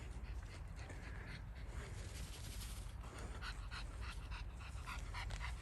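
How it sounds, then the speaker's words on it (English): A dog pants outdoors on a walking trail, quick rhythmic breaths rising softly from a windy, rustling background, faint and continuous with a small whimpering edge. "There's the dog."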